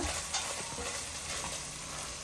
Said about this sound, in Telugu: అల్లం వెల్లుల్లిపాయ పేస్ట్ పచ్చివాసన పోయే వరకు వేయించుకోవాలి